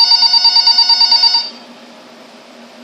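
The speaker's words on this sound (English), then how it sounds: "the phone on the counter rang" A telephone on a counter rings with a loud, rapid warbling bell for about a second and a half, then cuts off into near silence.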